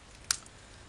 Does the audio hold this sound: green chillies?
no